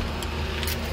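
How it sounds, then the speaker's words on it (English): A car door being locked in a car: a couple of brief, crisp clicks and jingles stand out over a steady, loud air-conditioning hum. "I'm just locking the door here."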